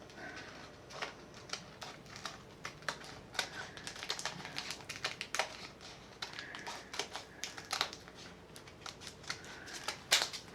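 Scissors snip scrap heat transfer vinyl in a quiet room, a busy stream of faint crisp cuts and small rustling taps with uneven rhythm, close to the mic and without talk.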